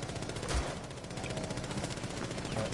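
In Rainbow Six Siege, a teammate's gun fires in rapid automatic bursts: sharp, loud, close shots rattling steadily with a heavier crack near the start.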